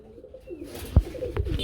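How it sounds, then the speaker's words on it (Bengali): Soft grizzle pigeon coos rise a few times against a low background rustle, close by, with a brief thump partway through. "এক একজোড়া গ্রিজেল কবুতর দেখতে পাচ্ছি"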